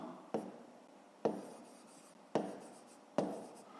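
Handwriting on paper while working a fifth-grade math exercise: four distinct pen strokes, each a sharp scratch fading quickly, spaced roughly a second apart, close and quiet with no talk.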